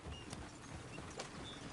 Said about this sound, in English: Oh, get the horses! Damn horses!